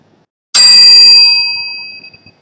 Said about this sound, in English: the bell sound.